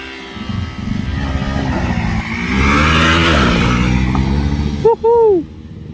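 A stock Hero Xpulse 4V Pro motorcycle idles with a loud, close engine rumble, rises in a rev, and settles back, followed by a brief higher chirping sound at the end.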